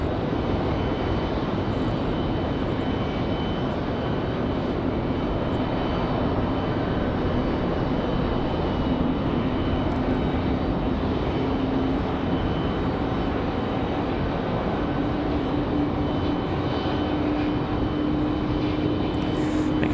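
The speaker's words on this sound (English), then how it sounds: "American Airlines 2654 off to LA." An American Airlines jet taking off for Los Angeles from Raleigh-Durham International roars as a steady broadband rumble for the full twenty seconds, fairly loud and unbroken, with a faint rising tone running through it.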